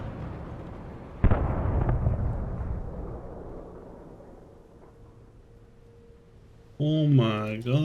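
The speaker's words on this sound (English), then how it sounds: "The birds just took out a helicopter." A helicopter downed by a flock of birds in Alan Wake Remastered gives a sharp explosive burst followed by a long rumbling wash, then a voice with tonal speech comes in near the end.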